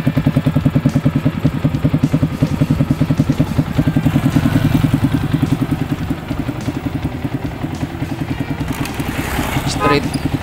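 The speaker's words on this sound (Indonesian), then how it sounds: "ada juga shifter sebagai pengatur suara knalpot" A Yamaha Vixion motorcycle idles with its exhaust set to standard mode, giving a close, steady, rapid low putter with a slight swell in the middle and a brief higher rattle near the end.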